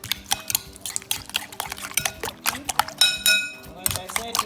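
Eggs being whisked with black pepper and Maggi bouillon, a utensil clinking and scraping against the bowl in quick irregular strokes, close and fairly loud, with a voice talking over it.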